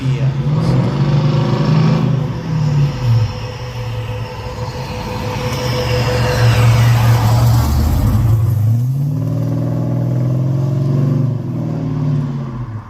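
A car engine fitted with Holley EFI drones loudly with rising and falling pitch as it revs, swelling to a peak before easing back, with some talking mixed in.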